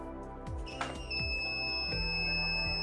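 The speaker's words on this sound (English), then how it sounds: "Now you can see buzzer will get on." A steady high-pitched electronic buzzer tone from an electronic letter box sounds continuously over a low mechanical hum, with a few soft clicks and thumps around it.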